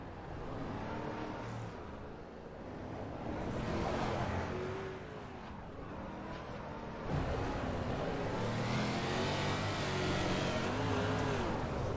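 A 305 winged sprint car races on a dirt track, its engine howling and revving as it passes at a distance, with the roar rising and falling over a steady background.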